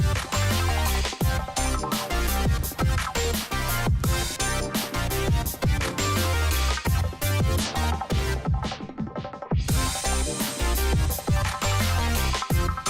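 Electronic track with an added bass support layer pitched a fifth above the octave, pulsing in a steady rhythm under full mix with drums, briefly dropping out near the end before resuming loud.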